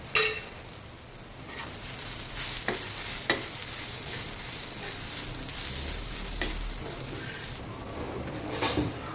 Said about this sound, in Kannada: ಸಾಲ್ಟು ಸ್ವಲ್ಪ ಚಿಲ್ಲಿ ಪೌಡರ್ ಇದನ್ನು ಹಾಕ್ಕೊಂಡು ಸ್ವಲ್ಪ ಹೊತ್ತು ಚೆನ್ನಾಗಿ ಫ್ರೈ ಮಾಡ್ಕೊಳ್ಳೋದು